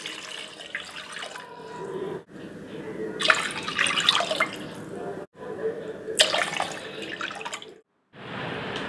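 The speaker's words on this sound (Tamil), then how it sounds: "ஏற்கனவே எடுத்து வச்சிருக்கிற 4 கப் தேங்காய் பாலை இந்த மசாலாவோட சேர்த்துக்கறலாம்." Coconut milk splashes into a pan of masala in several pours, the liquid gurgling in bursts separated by short pauses, while a person talks over it.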